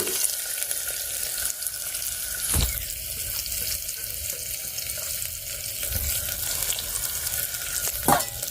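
Chopped onion fries in hot oil with curry leaves in a pan for Gujarati wheat-and-moong khichdi, giving a steady, soft sizzle with occasional clinks and stirring sounds.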